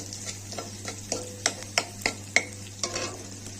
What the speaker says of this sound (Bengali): এই মাছের তেলে আমি পেঁয়াজ, সাদা জিরে আর কাঁচা লঙ্কা ফোড়ন দিয়ে দিয়েছি।